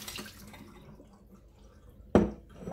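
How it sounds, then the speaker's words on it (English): Fermented Black Beauty eggplant seeds and water are poured into a colander: after a quiet stretch comes a sudden loud, splashy gush of liquid that fades into trickling. "now I'm just gonna pour this into my colander"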